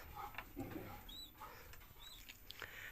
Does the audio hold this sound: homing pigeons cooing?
yes